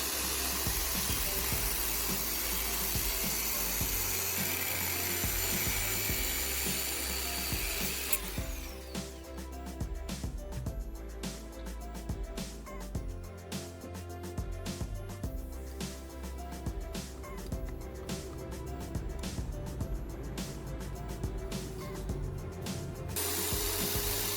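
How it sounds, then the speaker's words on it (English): A cutting tool saws through plastic battery casing clamped in a vise, giving a dense run of rapid rasping strokes from about eight seconds on, close and steady, after a stretch of duller mechanical noise. "Next, I use a cutting tool to cut along the marked line."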